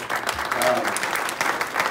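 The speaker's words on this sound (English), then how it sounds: "Real quick applause for them, please" Brief burst of dense clapping from a club assembly crowd applauding its volunteers, a short steady wash of many hands with no break.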